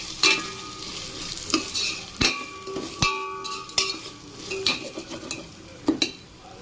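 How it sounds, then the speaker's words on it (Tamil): Ingredients for coconut milk rice, including rock salt and curd, sizzle in a pan. A spoon stirs them with repeated scrapes and metallic clinks over a steady frying hiss. "இப்போ எல்லாத்தையும் நல்லா வதக்கிக்கோங்க"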